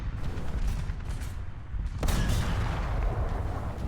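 A tank gun fires in the War Thunder video game. A loud low boom hits at about the two-second mark over a continuous rumbling mechanical background.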